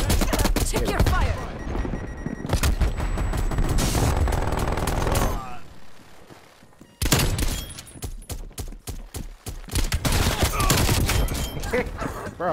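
Call of Duty: Black Ops Cold War gameplay with loud, close bursts of automatic gunfire and rapid single shots, a brief lull near the middle before the firing resumes in dense, uneven volleys.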